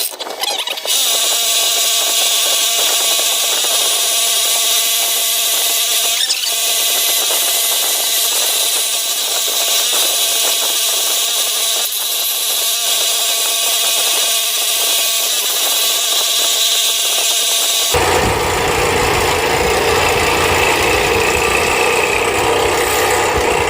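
A power saw fitted with a fresh blade cuts through solid 3/4 inch maple hardwood, a loud continuous whining roar up close that holds for most of the run before the tone shifts abruptly to a rougher, deeper noise near the end.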